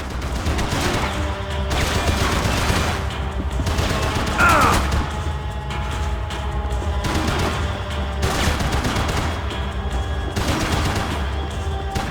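Rapid gunfire in Max Payne 3, a dense, loud stream of shots and bursts repeating for about twelve seconds, with intermittent impacts and debris.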